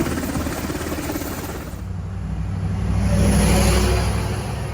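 A rescue helicopter works over flooded homes after Hurricane Helene, a continuous droning engine roar with a low rumble that swells louder toward the middle and then holds steady. No one talks.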